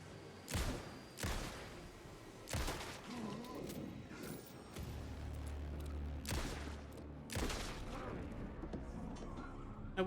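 Repeated loud gunshots from a handgun in Alan Wake II, fired in spaced bursts over a steady rumbling game soundscape.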